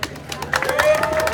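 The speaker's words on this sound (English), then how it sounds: "a big round of applause for him, John Salt" Audience applause for John Salt at a multisport event farewell, a brief burst of crowd clapping rising quickly with chatter mixed in, moderately close.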